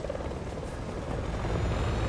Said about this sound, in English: Where did Ada get a chopper?